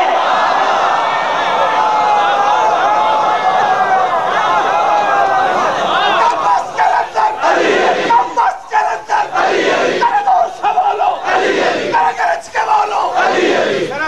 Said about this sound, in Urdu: آپ کے نعرے کی آواز نجف تک پہنچے